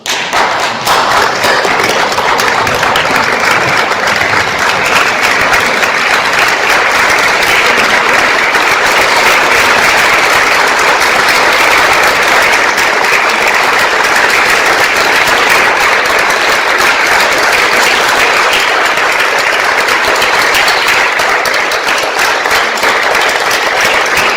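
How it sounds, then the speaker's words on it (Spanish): A standing audience at a Spanish anniversary commemoration gives sustained, dense applause, loud and unbroken for about twenty-four seconds, with no speech over it. "yo pido ahora que la signifiquemos en pie con un aplauso"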